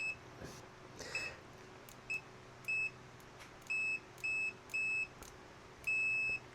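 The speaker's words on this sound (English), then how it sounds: "Long beep" Cheap multimeter, bought for under £3, beeping on a continuity test: a short chirp, then a run of evenly spaced bright electronic beeps of similar length, ending in one longer tone, clear against low hum.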